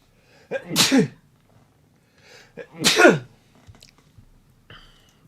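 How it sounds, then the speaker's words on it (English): Two loud sneezes about two seconds apart, each a sharp burst with a short intake, close to the mic during a card game watch party, followed by faint small noises and no talk. "sneeze."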